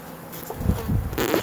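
Honeybees buzzing close by as a beekeeper brushes them down off the frames during a hive inspection, a steady insect drone that swells in the second half of the brief moment.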